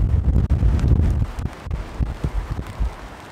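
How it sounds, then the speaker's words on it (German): Strong gusts of wind, about 40 km/h, buffet the microphone from a half-open car in the rain, loud rumbling bursts that ease into uneven thumps and rustles. "Es ist extrem windig, 40 km/h und es regnet."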